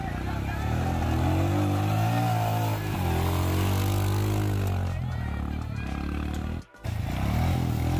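Royal Enfield Himalayan motorcycle struggling through deep mud off-road, its engine droning and revving with rising and falling pitch, loud and close, with a brief dropout near the end.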